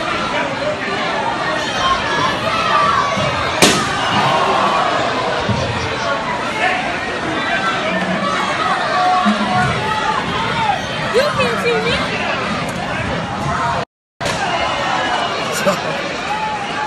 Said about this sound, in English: check out this crowd right here